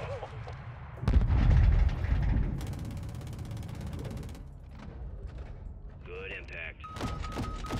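Heavy AC-130 gunship cannon fire and booming explosions in Call of Duty: Modern Warfare 2, a big blast followed by a rapid stream of rounds and later sharp impacts, with radio voices talking throughout.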